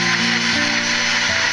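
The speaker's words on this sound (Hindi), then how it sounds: "अब हम इसको अच्छे से ग्राइंड कर लेंगे।" A mixer grinder churns a thick mango kulfi mixture with a steady, loud whirring drone, its pitch shifting briefly a few times as the load changes, no voices.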